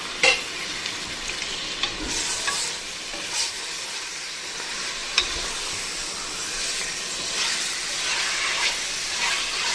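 Marinated chicken fries with onions and tomatoes in a pan for Hyderabad-style biryani, a steady close sizzle with intermittent stirring scrapes and clinks, no voices.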